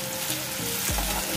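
Onion and chicken fry in oil for a chicken curry, a steady close sizzle running throughout with a brief stirring scrape near the end.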